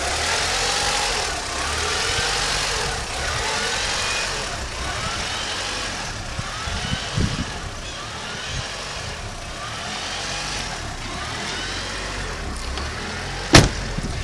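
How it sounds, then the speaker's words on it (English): A 1992 Honda Prelude with a swapped JDM H22A engine idles steadily with a slight rising and falling surge, continuous and fairly close, with a sharp click near the end. "Out of all the idle surges that I've heard on a lot of these H22 swaps"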